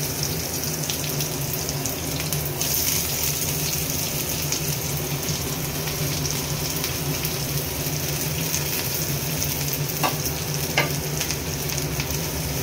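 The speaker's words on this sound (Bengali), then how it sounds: "তেলটা গরম হয়ে গেছে, এখন দিয়ে দিলাম কুচনো পেঁয়াজগুলো" Chopped onions dropped into hot oil fry with a loud, dense, continuous sizzle close by, with faint clicks of stirring over the steady crackle.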